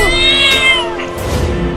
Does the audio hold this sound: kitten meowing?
yes